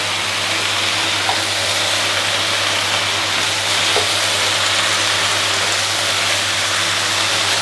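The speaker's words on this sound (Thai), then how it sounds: "แล้วก็ผัดคลุกเคล้าให้เข้ากันดีครับ" Constant hissing sizzle of yakisoba noodles stir-fried in a hot pan, broad and steady throughout, with a low hum underneath and no talking.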